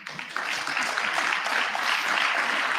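A round of applause from an audience at a student council induction gathering, a dense wash of many hands clapping that starts abruptly and holds steady and loud throughout.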